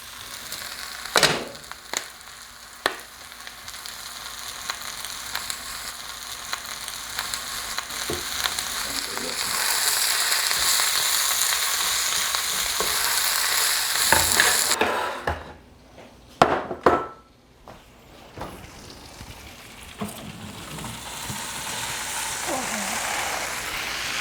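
Cabbage sizzles in a pan on a stove over medium heat, a steady crackling fry broken by clinks and knocks of a utensil, with a short quiet gap before the sizzle resumes; a person talks over it at times.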